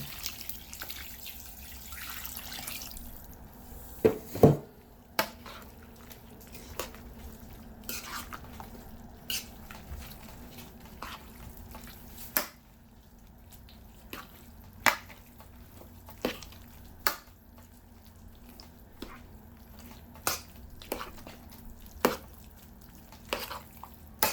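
Water with chicken powder poured into a cooking pot and stirred with a metal spoon, giving scattered clinks and scrapes against the pot plus soft liquid sounds, fairly quiet and intermittent, with no talk.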